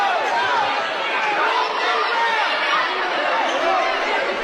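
Basketball crowd at a girls' sectional game roaring and chattering loudly after a foul call, a dense, steady wall of voices and cheering with whistles of excitement throughout.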